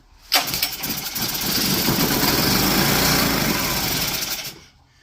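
A generator engine with a dirty carburetor, sprayed with starter fluid, catches with a sudden bang and roars loudly for about four seconds before sputtering out and dying.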